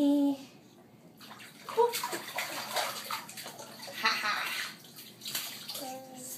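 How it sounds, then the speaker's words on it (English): An 11-month-old baby slaps and splashes water in a bathtub in uneven bursts of sloshing and spattering, close by, with an adult's voice and the baby's babble heard at times. "Splashing in the water."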